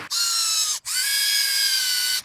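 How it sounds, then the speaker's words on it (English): A power drill spins wire held in its chuck during shed wiring work, a loud high whine that runs briefly, stops for an instant, then restarts and holds steady before cutting off, close and alone. "I'm gonna put it in the chuck of this drill"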